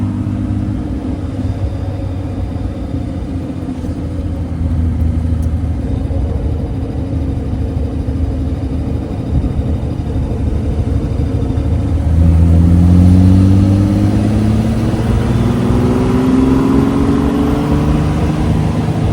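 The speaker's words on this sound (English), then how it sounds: "these British cars, I mean, they sound so great. The exhaust is just tuned differently." A 1962 Austin Healey 3000 runs with a steady low engine and exhaust rumble that swells as it revs up partway through, loud and close with no talking.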